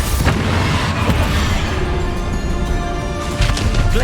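Bombarda spell blasts in the Hogwarts Legacy video game on PS5, loud crashing booms amid chaotic combat noise, with a sharper impact near the start and another cluster of hits toward the end, no voices.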